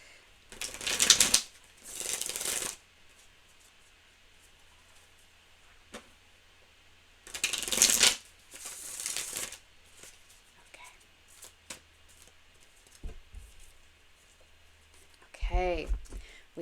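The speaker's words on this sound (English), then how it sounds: "So let me go ahead and shuffle." Tarot cards are shuffled in several brisk riffling bursts separated by quiet pauses, close and crisp, with soft whispered speech in between.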